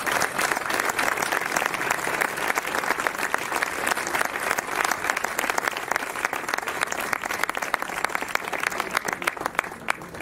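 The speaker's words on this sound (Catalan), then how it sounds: "Un aplaudiment molt gran per totes les dones" A crowd applauds at an outdoor gathering of grandparents in Mont-roig del Camp: continuous, fairly distant clapping from many people holding a steady level for around ten seconds, with no talking.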